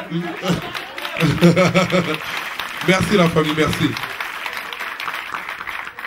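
Studio audience applauding on a French TV talk show, clapping under steady talk from a host and guest, with scattered chuckles alongside.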